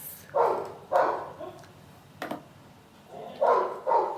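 Several dogs bark in short bursts, two quick barks, a pause with a sharp yip, then two more barks, moderately distant.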